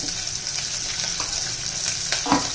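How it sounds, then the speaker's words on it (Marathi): Plenty of curry leaves crackle in hot oil for spiced masale bhat, making a dense, continuous sizzle close by, broken by a few soft stirring scrapes and a louder pop near the end. "त्याच्यामध्ये भरपूर असा कढीपत्ता घालायचा आहे"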